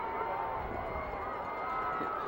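A rowdy Shawnee crowd at a 2003 state championship high school football game against Lawton MacArthur makes a steady, distant roar of voices under a broadcaster's talk.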